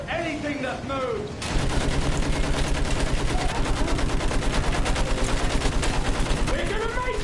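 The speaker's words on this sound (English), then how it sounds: "Fire at anything that moves!" Battlefield 1 gunfire erupts into a dense, rapid fusillade of machine-gun bursts after a brief lull, loud and continuous with rhythmic shots layered over battle din.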